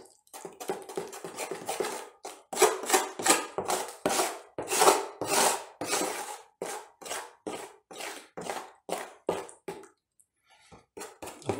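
Wall filler powder is stirred into a paste with a tool in a container, giving a run of rhythmic scraping and rubbing strokes, loud and close, that slow and thin out toward the end, with no voices.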